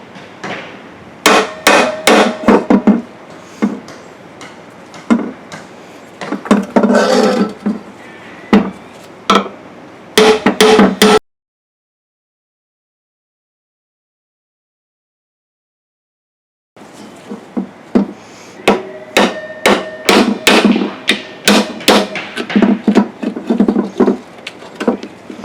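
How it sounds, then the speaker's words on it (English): Rapid, sharp hammer taps drive a seal into a bore of a Borg Warner 1305/1339 Quadratrac transfer case, in fast clusters, close and loud. A silent gap breaks them midway before the hammering resumes. "just take a hammer and want to buckle the seal into the center of the bore"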